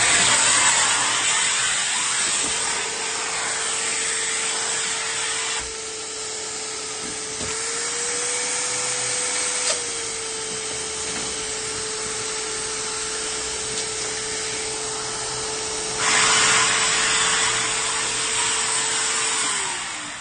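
A vacuum cleaner runs loud and steady beneath a locksmith's work area, a constant whining drone with a brief pitch rise partway through, close by and uninterrupted by talk.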